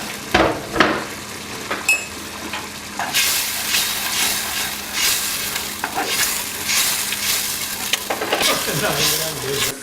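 Loud, steady sizzling of onions frying in a pan, with scraping and clinking as they are stirred.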